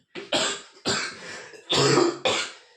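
A person coughs four times in a row, each a sharp, loud burst close by with short pauses between them.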